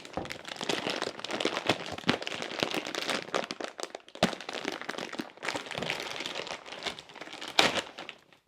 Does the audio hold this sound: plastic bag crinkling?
yes